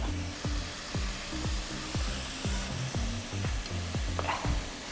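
Coriander stems sizzle and crackle in a hot pan as they are stirred for a home remedy, the spoon scraping in a steady rhythm of about ten strokes over the frying hiss, close up, with no one speaking.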